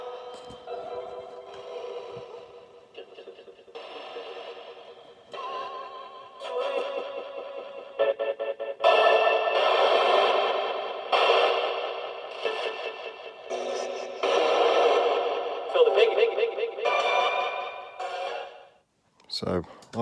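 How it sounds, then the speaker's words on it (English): A homemade spirit box radio with a stepper circuit scans rapidly through stations, chopping between bursts of voices, music and static, all washed in echoing reverb. "a radio circuit and a reverb circuit, and also a little stepper, so it steps through the channels"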